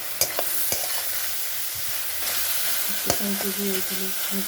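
Onions frying on high flame with garlic, green chili, curry leaves and carrot, a close continuous sizzle broken by sharp clacks of a spatula and repeated scraping stirs.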